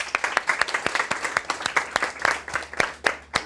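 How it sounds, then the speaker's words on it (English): A small classroom group claps for a few seconds, individual hand claps distinct and uneven in rhythm, close by and moderately loud. "give them a round of applause."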